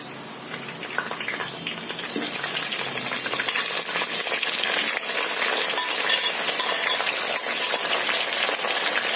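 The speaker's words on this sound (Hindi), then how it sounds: "अब तेल में हम ये प्याज को फ्राई कर लेंगे।" Steady crackling sizzle of onion and chicken pieces frying in hot oil, with occasional stirring scrapes, close and continuous, no talking.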